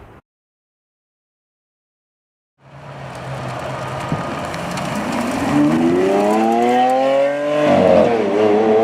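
A Lamborghini Aventador SV engine bursts in after near-silence and builds into a loud, rising rev under acceleration, dips briefly with a gear change, then climbs again while driving.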